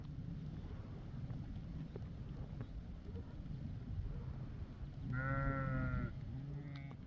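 Two bleats from a sheep near the end, the first longer, over steady wind rumble and outdoor background noise on a farm where rams are being added to the flock.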